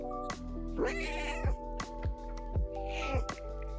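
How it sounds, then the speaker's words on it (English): A cat meows several times in short, rising calls spaced about a second apart, close and clear over a constant low background hum. "She just meowed at me."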